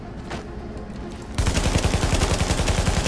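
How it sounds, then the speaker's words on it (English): Police T821 rifle fired in The Division, erupting into loud rapid automatic bursts with a steady rhythmic pulse after a quieter stretch of game ambience. "Let's see what this devil of a gun can do"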